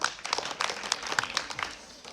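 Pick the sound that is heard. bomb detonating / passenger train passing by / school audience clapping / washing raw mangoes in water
school audience clapping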